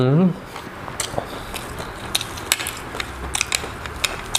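Crunchy bites and chewing of homemade crispy pork belly, close to the mouth, with sharp crackling snaps spread over a few seconds and a short hum of voice at the start.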